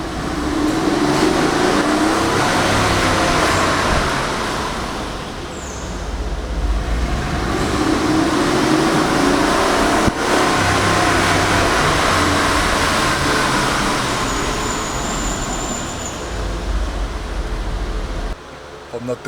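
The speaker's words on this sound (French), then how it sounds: "on va garer la voiture" A car drives slowly and pulls into a parking spot, its steady engine and road rumble continuous and close, easing off near the end as it comes to rest.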